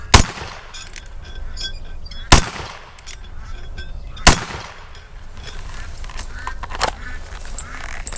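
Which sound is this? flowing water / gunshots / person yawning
gunshots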